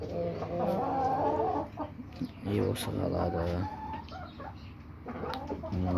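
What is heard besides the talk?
chickens clucking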